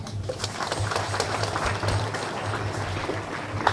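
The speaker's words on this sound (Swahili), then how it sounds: "Tujipigie makofi." An audience at a Kakamega gathering applauding a school's top academic results, a steady rolling patter of clapping from a crowd that holds even in volume from start to finish.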